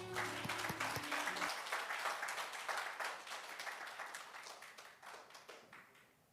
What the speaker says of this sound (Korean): 영광의 박수 함께 올려보겠습니다